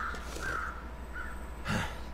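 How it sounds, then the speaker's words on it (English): Crows caw in The Long Dark video game, a few harsh calls spaced over a couple of seconds against a constant low wind-like hum, with one louder, broader call near the end. "There's crows"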